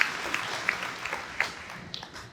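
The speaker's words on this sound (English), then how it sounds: "Give her a round of applause as well for the support." Fairly faint applause from an audience at a university convocation, even clapping with a few sharper individual claps, heard from a distance in a large hall.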